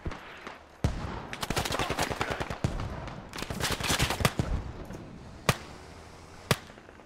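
Rapid rifle fire from the military shooter Squad, clusters of sharp cracks and bursts over several seconds, followed by two isolated loud single shots near the end.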